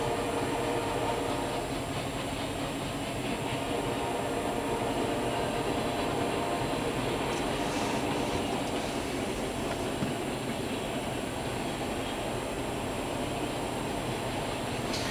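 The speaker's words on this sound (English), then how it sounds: "Hauling a coal drag." Norfolk Southern freight train hauling a coal drag past in Argo, Alabama, with an Erie heritage unit, a continuous loud rumble of rolling wagons and wheel clatter.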